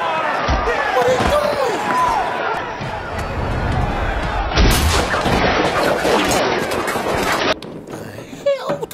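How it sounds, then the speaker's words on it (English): A bomb blast from a prison football comedy film booms through a room, with heavy impacts and crashing rumbles while people react and talk loudly over it. "what type of bomb was that?"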